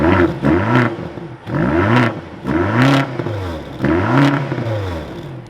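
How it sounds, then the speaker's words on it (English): The engine of a 2023 BMW XM, heard just after start-up, runs close and loud in four rising and falling revving swells with a low rumble between them. No one talks. "So let's fire this up now with my foot on the brake. We can bring this to life, and you can hear that engine."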